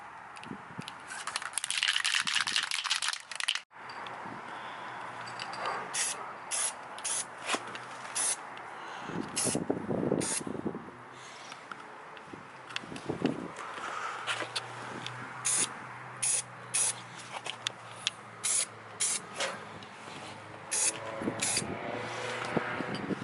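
A spray paint can, used on a third-generation Toyota 4Runner's rear bumper, hisses in a long burst, then sputters in short, uneven spurts as it struggles to spray, against steady outdoor background noise.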